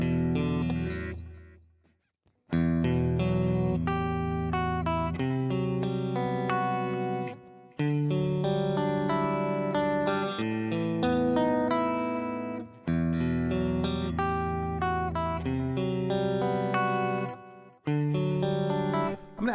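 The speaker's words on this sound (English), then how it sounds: "I'm going to use the tape delay just for some ambience again" An electric guitar played through a Boss ME-90 multi-effects unit with tape delay for ambience: sustained chords and melodic phrases ring out in repeated passages, separated by short silent gaps, with echoing tails.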